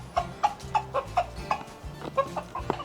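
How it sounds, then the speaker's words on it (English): White leghorn hens at an animal sanctuary cluck in short, rhythmic bursts, a steady series of close, moderately loud calls with brief pauses between them and no talking. "we actually have chickens in several places in the sanctuary"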